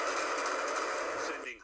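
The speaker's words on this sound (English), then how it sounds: "This is the moment gunshots rang out in Times Square," Rapid burst of gunfire in Times Square, heard as a dense, continuous crackle from a distance in a street recording, fading out at the end.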